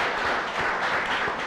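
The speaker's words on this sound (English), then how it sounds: "Let's give them a big round of applause." Brief applause from an audience at a chef competition event, a soft, even wash of many hands clapping, somewhat distant and fairly quiet.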